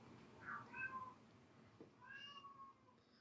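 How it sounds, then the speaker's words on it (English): A pet cat meows several times indoors, two separate calls a moment apart, moderately faint over a quiet room. "Now my cat's meowing."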